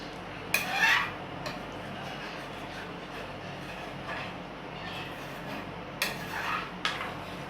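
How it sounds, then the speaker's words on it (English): A spoon scrapes the side of a pot of Jamaican red peas soup in a few short, sharp metallic rasps, close by, with quiet simmering between them and no talk. "Right about now, I scrape the side of the pot"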